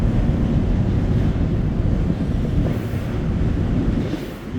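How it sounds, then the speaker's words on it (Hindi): Strong wind roars and buffets the microphone while storm waves surge below, heard from the open deck of a cruise ship in heavy weather at sea; the noise is loud and continuous throughout, with no voices. "हवा बहुत ही तेज है।"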